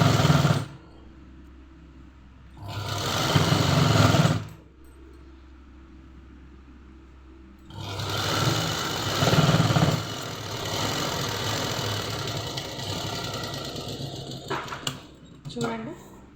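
A sewing machine stitches along a folded back edge of fabric to make thread piping, running close in two bursts of a few seconds each, with the motor hum continuing more softly between them and a voice at times.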